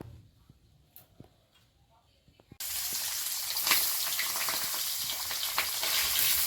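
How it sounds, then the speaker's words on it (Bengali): Singi (stinging catfish) fish hit a hot pan after a quiet stretch with faint background voices, bursting into a loud, close, steady sizzle that continues to the end. "মাছগুলো ভেজে নেব"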